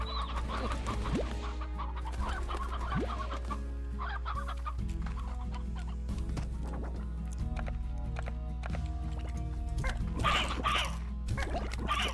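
Chickens cluck and squawk repeatedly in the Slime Rancher video game, layered over a steady low hum and game music with quick scattered sound effects.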